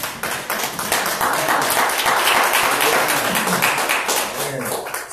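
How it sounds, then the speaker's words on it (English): A church congregation claps along during a Sunday sermon, many hands striking in a fairly regular rhythm, close and lively, with voices calling out over the clapping. "Give the Lord a hand clap."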